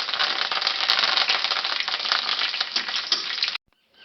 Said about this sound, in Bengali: কারি পাতাগুলো দিয়ে দিচ্ছি। আমি কিছুক্ষণ নাড়তে থাকবো।